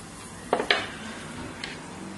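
A pot lid is set down onto a pan of green beans frying in their own juices, giving two quick metallic clanks close together, then a fainter clink under a low background hiss.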